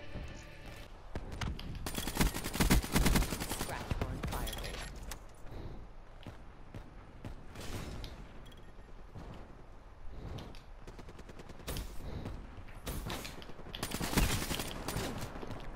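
Rapid gunfire in a Black Ops 3 multiplayer match, with dense bursts of shots and clatter running throughout, fairly quiet overall.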